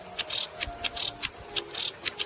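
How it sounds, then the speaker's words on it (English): Female cicada call: short, sharp clicks and brief buzzy chirps repeat in an irregular rhythm over a quiet background, each burst crisp and close, with gaps of near silence between them. "To sound like a female cicada,"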